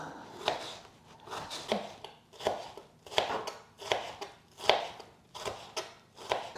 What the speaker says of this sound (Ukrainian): тепер цей перчик мені треба нарізати міленьким кубічком.